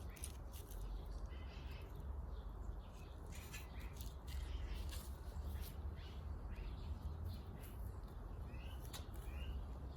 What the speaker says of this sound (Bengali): পাখির আওয়াজ